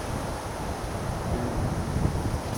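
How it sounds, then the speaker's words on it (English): Warm wind gusting steadily across a carp fishing lake, a continuous broadband rush close to the microphone with slight swells toward the end and no voices. "Nice warm wind coming down."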